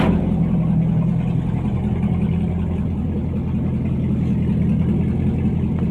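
A 1971 Ford Thunderbird V8 idles steadily on a hot day, a smooth, even low rumble held close and loud throughout with no revving and no voices.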